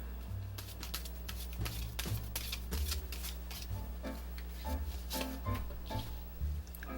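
Tarot cards being shuffled for a fortune reading, a close series of soft riffles, slides and edge taps in uneven bursts, with faint low background hum and no one speaking.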